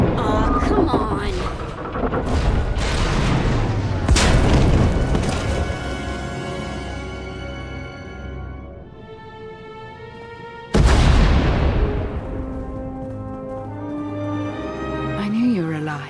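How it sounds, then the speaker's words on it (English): Deep booming explosions erupt with heavy rumbling tails, a second big blast hitting partway through, under voices and game effects in the video game Star Wars: The Old Republic. "We heard explosions."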